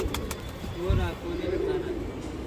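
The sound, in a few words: pigeons cooing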